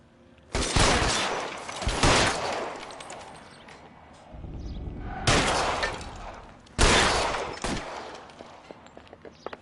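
Several loud bursts of rapid gunfire from the video game L.A. Noire, each volley sharp and crackling, separated by brief pauses and a low rumbling lull.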